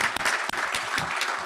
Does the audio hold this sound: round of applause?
yes